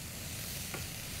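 Onions fry in a pan with a steady, even sizzle and a single quick stir stroke, close and quiet with no voices.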